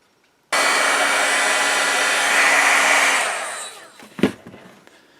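A heat gun blows a loud, steady roaring hiss as it shrinks heat shrink tubing over a coax cable, then winds down and cuts off, followed by a sharp knock as it is set down.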